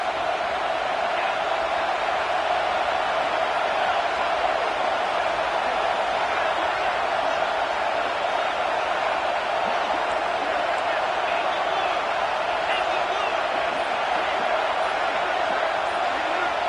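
Steady roar of a stadium crowd at a USC football game, a dense, continuous wash of cheering that holds at an even loudness throughout, with no distinct voices standing out.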